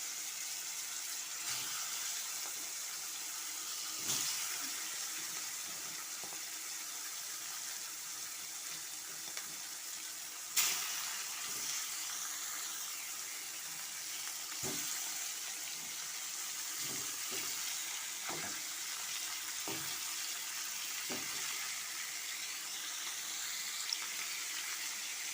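Pangas fish frying in hot oil in a wok, giving a steady close sizzling hiss with scattered sharp pops and clicks over about 25 seconds, no voices.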